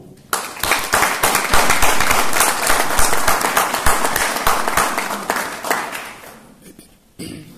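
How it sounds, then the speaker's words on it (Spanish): An audience applauds at the opening of the fifth congress, with sustained dense clapping from a crowd that swells quickly, holds steady for several seconds, then thins out and fades. "quiero agradecer y pedir un aplauso para el presidente de Panafricanos y Cataluña, a Kenneth Careva."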